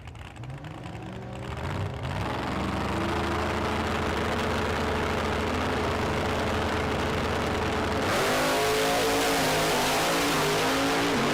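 Drag racing at a strip: a Chevrolet S10 and a Camaro rev loudly, then launch hard together with a sustained roaring surge, no talk.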